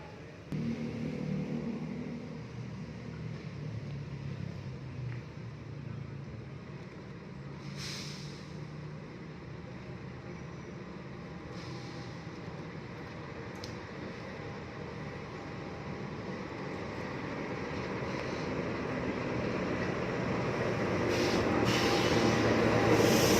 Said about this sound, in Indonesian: ini ada kereta api Gajayana yang melintas